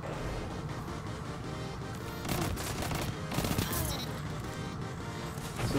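Go Figure pulse rifle firing repeated bursts in the Crucible mode of a shooter game, dense rapid gunfire running throughout, loud and close, with a heavier stretch of shots in the middle.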